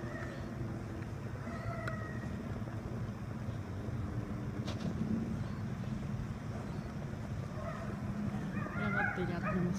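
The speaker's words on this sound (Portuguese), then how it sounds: "Eu acho que tem cachorro solto aí" Dog barking outdoors on a snowy day near a mansion with visitors: a few faint, distant barks and yips come through a constant low rumble of background noise.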